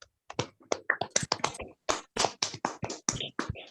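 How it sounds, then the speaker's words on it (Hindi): Scattered handclaps from people in an online session applauding Jai Singh, a run of sharp, close, distinct claps over a few seconds with quiet gaps between. "सब लोग तालियां बजाएंगे जय सिंह जी के लिए"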